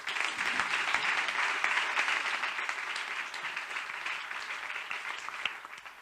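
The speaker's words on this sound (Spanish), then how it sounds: "Un fuerte aplauso" Dense, steady audience applause fills a hall at an international science, technology and equality congress as a doctor is welcomed to the podium, sustained and fairly loud before easing slightly near the end.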